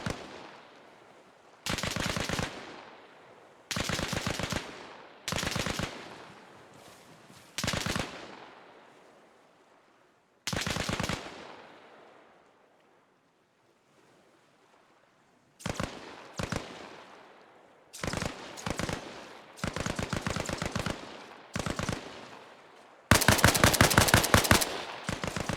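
Automatic and single gunfire in the video game ArmA Reforger rings out in loud, sharp bursts separated by silent gaps, ending with a long rapid machine-gun volley.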